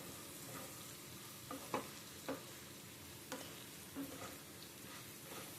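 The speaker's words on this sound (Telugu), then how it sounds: "ఇప్పుడు బాగా కలుపుకుంటాము ఉప్పు పసుపు." Leafy greens in a pan being stirred with salt and turmeric, giving a quiet, soft sizzle broken by several light clicks and scrapes of the spoon against the pan, with no talking.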